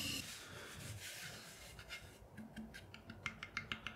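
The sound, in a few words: trimming a clay pot on a pottery wheel with a chuck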